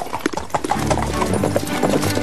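Horse hooves clip-clop in a quick, uneven rhythm as a horse is ridden, with rustling and a possible brief whinny in the background.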